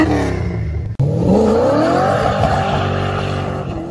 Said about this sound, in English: Rev up your Corvettes.